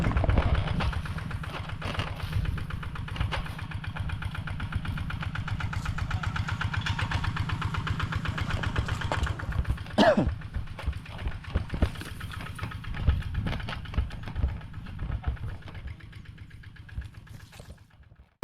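A farm machine engine that had water put into it idles steadily and loud up close, a low rhythmic chugging with occasional revs and rattles, running continuously.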